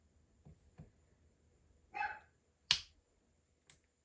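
A dog indoors gives a short bark amid faint background noise, followed by a sharp snap-like click and a softer tap, the sounds brief and sparse with no talk.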